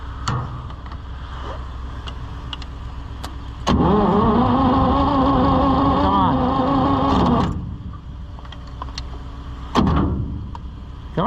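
A John Deere 55 EB combine engine cranks on its starter in one sustained, loud grinding run of about four seconds with a steady pulsing churn, set between quieter idle-like background and clunks, with no ignition catching.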